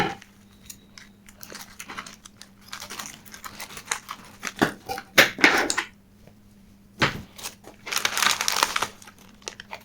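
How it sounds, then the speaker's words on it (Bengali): Packaging for a Bluetooth RGB LED strip light is torn open and handled nearby, giving irregular crinkling and rustling bursts with sharp crackles and quiet gaps, no talking. "তো আমি এখন প্রোডাক্টটাকে খুলছি"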